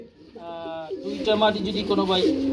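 Pigeons at a sale of seventy pairs coo in low, rolling calls close by. A person talks over the birds for much of the clip.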